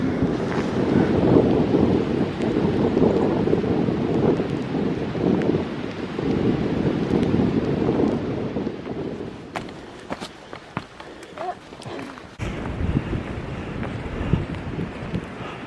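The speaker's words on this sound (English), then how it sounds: "Man, that wind. That wind is blowing." Strong wind blowing on the Appalachian Trail in cold, wet winter weather, roaring against the microphone in long gusts that drop away near the end amid scattered clicks and rustles.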